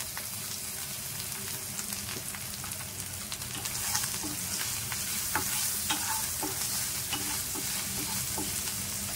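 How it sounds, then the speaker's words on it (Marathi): Garlic cloves with asafoetida sautéing in a pan over a low flame, a steady soft sizzle with a spoon scraping and stirring through it, the scrapes growing a little livelier toward the end, no voices. "मी लो फ्लेम वरती परतवून घेते"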